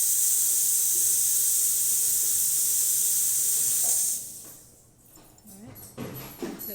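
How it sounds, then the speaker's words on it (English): Steam wand on a repaired Zacconi espresso machine hisses loudly and steadily for about four seconds, then cuts off, leaving quieter clattering and handling noises. "And then I'll show you the steam here."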